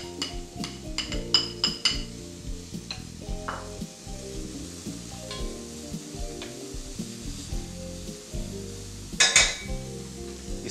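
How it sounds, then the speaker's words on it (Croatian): Chopped onion and strips of bacon fry in rendered meat fat in a pan, giving a steady close sizzle with the clink and scrape of a stirring utensil and a sharp metallic knock near the end. "i sve zajedno pržimo dok luk ne omekša."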